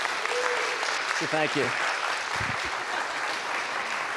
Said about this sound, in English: I'd like to ask the congregation to acknowledge you and appreciate you with a round of applause